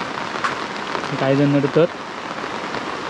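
Heavy monsoon rain pours down in the Konkan region, a dense, steady hiss that fills the whole clip while someone speaks briefly over it.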